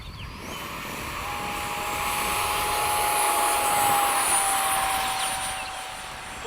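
An FMS 70mm F/A-18 model jet with electric ducted fan taking off at a flying field, a steady high whine that swells gradually and then eases slightly as it climbs away.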